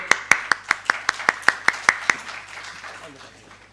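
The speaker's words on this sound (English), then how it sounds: "Ladies and gentlemen, round of applause for them" A small audience at an evening panel discussion in Chennai claps in about a dozen sharp, evenly spaced claps that fade into a low room hum.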